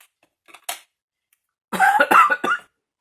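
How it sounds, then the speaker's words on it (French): A run of harsh coughs: two short ones, a pause, then a louder burst of several rapid coughs close to the mic. "je tousse comme une malheureuse"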